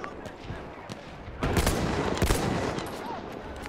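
Enemy gunfire in Battlefield 1 trench warfare, a dense barrage of rapid shots that swells sharply partway through and stays loud and continuous, with players talking over it.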